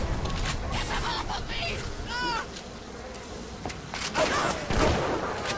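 A swarm of attacking bees from the video game Bioshock buzzes and swirls amid scattered sharp game effects, while someone talks over it.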